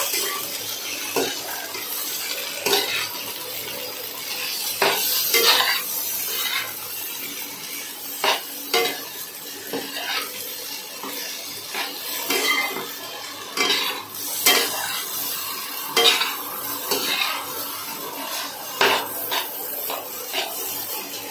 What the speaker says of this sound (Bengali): এই সসটা দিয়ে ভালোভাবে নাড়াচাড়া করলেই রেডি হয়ে যাবে পাস্তাটা